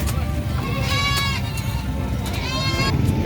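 Goats bleat repeatedly at the San Carlos livestock market in the Philippines, wavering calls rising above a dense crowd murmur and background noise, with voices talking under them.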